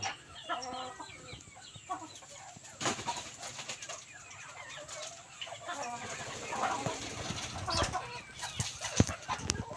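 Bantam chickens cluck and chatter at feeding time, several birds close by with scattered sharp calls and a distant crow, plus occasional clattering.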